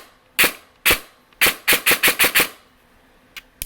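Airsoft MP5 with a VFC gearbox on an 11.1 battery firing single semi-auto shots, loud sharp cracks spaced at first, then a quicker run of six, ending with a faint final shot, no talking.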